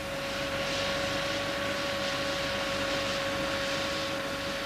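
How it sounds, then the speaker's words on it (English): A blower behind a blacksmith's forge drives a constant roaring rush of air into burning coke, loud and unbroken, with a steady mechanical hum running through it. "The oxygen is supplied from a blast of air which is pumped into the coke by a blower behind the forge."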